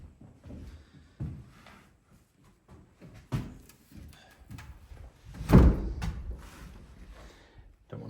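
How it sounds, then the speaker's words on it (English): A door being pushed shut produces a few scattered knocks and thuds, ending in one louder, solid thump near the end, with quiet handling noises in between. "Let me close my door"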